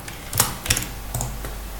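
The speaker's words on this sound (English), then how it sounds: "I'm typing." Computer keyboard keys tapped in a few short clustered bursts while configuring a network switch interface, close and fairly quiet, with no talking.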